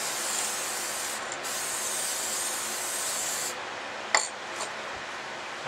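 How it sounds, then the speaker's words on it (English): Regular steel wool scrubs heavy rust off metal in a continuous, even abrasive hiss, pausing briefly once before a couple of sharp scraping strokes. "I use some regular steel wool to clean the heavy rust off."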